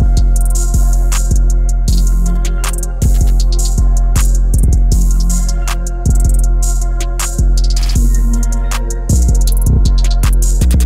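A loud, dark ambient trap beat with deep booming bass, sharp regular drum hits and skittering hi-hats over a moody sustained synth pad, no vocals.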